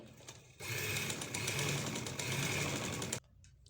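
A sewing machine stitches a shirt hem, starting up after a quiet moment and running in one steady, close, rapid whir for about two and a half seconds before stopping abruptly.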